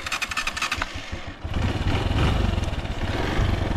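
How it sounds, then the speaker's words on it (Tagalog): A 125cc motorcycle engine sputters and then runs with a loud, steady rumble and throttle pulses, close by; clattering sounds precede it. "Ito nga yung pinakamalakas na motor dito ngayon."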